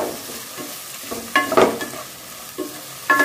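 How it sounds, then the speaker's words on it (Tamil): Chopped tomatoes sautéing in a pan for drumstick sambar, with soft sizzling and several quick spatula scrapes and stirs, close up and without talk. "இந்த 2 தக்காளி நம்ம இதில் சேர்த்துக்கலாம். இதையும் வந்து அப்படியே வதக்கிக்கோங்க."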